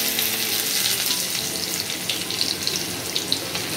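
Chopped garlic frying in hot mustard oil in a pan, giving a steady, dense sizzle and crackle close up that runs through without a break, with no voices.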